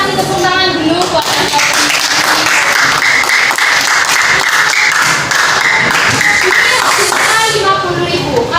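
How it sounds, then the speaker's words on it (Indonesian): A junior high mathematics class applauds together in the classroom, loud and close, with steady hand claps sustained throughout and a few children's voices mixed in. "Coba kasih tepuk tangan dulu buat"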